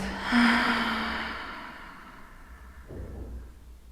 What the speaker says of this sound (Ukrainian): І ще раз вдих через ніс і видих через рот.